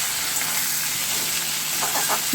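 Fish heads fried in a pan are broken apart with a spatula for a Bengali kochu shak dish, a steady close sizzle with soft stirring and a few scraping knocks toward the end.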